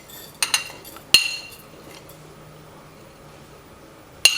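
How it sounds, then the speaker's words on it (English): Small dry cumin seeds dropped into a hot, empty pot for dry roasting make a few light clinks and pattering ticks in quick bursts, followed by a quiet stretch and one more sharp clink near the end. "I'm just adding in the cumin seeds first"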